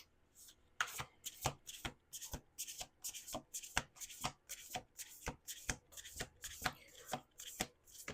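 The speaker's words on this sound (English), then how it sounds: "Okay, 1 more shuffle." Rapid rhythmic riffle-and-bridge shuffling of a card deck, a series of sharp papery bursts close to the microphone, repeated steadily with no talking.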